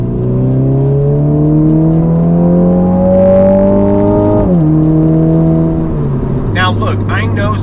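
Engine drone from a Mini JCW with chassis braces rises and falls in pitch while it drives and turns corners, heard loud from inside the cabin, with a brief tire or road noise near the end.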